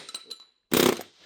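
Air hammer knocking a press-fit pinion out of a yoke on a school bus build, a short burst of loud rapid rattling hammering after a brief pause, close and harsh.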